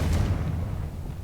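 A Confringo blasting spell goes off in the Hogwarts Legacy video game: a deep, rumbling boom that hits at once, then fades into a low decaying roar. No voices.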